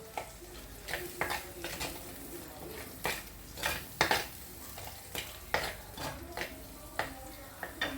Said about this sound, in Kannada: ಸ್ವಲ್ಪ ಒಂದು ಎರಡು ನಿಮಿಷ ಹೀಗೆ ಈ ಎಣ್ಣೆಯಲ್ಲೇ ಉರಿಯುವ ಇದನ್ನು